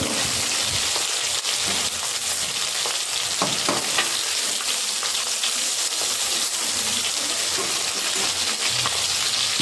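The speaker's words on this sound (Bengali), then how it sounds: "মাছগুলো খুব সুন্দর করে ভাজা হয়ে গেছে" Continuous loud sizzle of bhetki fish frying in oil, crackling and spattering close by, with a few utensil taps scattered throughout and no speech.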